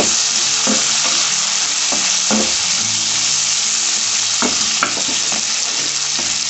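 Sliced onions tossed into hot oil with garlic-ginger paste for chilli chicken, giving a steady loud sizzle and crackle up close, with occasional scraping stirs, no voices.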